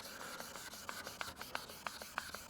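A plastic headlight lens is wet sanded by hand with 1000-grit sandpaper under light pressure. Faint, close rubbing strokes repeat in a steady back-and-forth rhythm, about five per second, with no talking.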